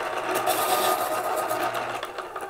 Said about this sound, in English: I'm just sharpen this pencil real quick.